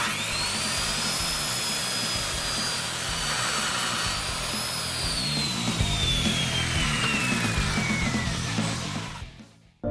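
Power saw cutting through wood with a FastCap square cut guide, a loud continuous whining cut with a slowly falling pitch, running steadily for nearly ten seconds before stopping abruptly.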